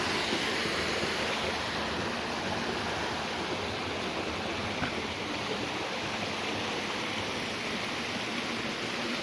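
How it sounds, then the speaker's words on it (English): The Cosmo Cascade waterfall and its creek rush in a steady, broadband roar, close and loud, with no voices over the constant pour of water. "Here we are, bottom of Cosmo Falls."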